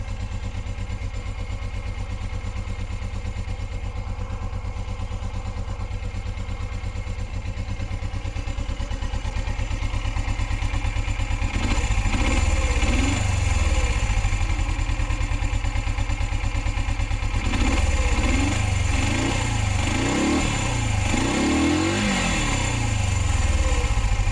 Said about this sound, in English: Great running little bike.